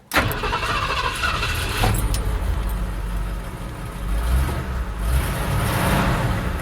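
A 1977 Ford F350 truck engine cranks and catches, then settles into a loud, rough running rumble with uneven surges, close by, with no talk over it.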